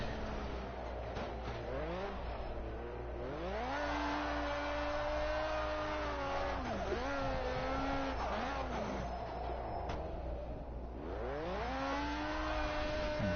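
Drift car driven fast on dirt, engine repeatedly revving up and dropping through gears as it swings around corners, a steady nearby roar with rising and falling pitch sweeps and occasional tire scrub.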